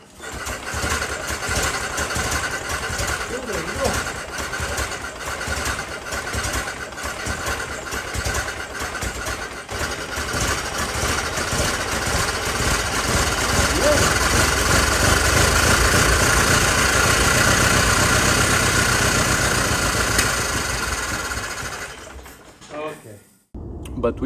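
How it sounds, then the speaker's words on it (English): A 1914 Ford Model T Speedster engine running just after a crank start, a loud, rough, uneven chugging that holds steady for about twenty seconds before cutting out, with voices talking over it. "we turned the crank multiple times and she finally started"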